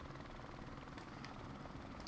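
A helicopter in a video game drones faintly and continuously in the background, a low, even rotor hum with no voices.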